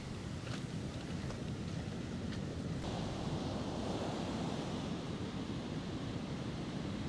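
Heavy, continuous Pacific surf roars close by at Point Reyes, California, a dense wash of breaking water with gusty wind noise layered over it and no voices.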